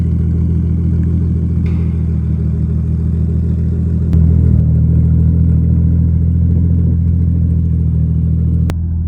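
A Nissan Skyline petrol engine running close by, a loud, steady low rumble with a brief rise in revs midway and a slight mechanical clatter.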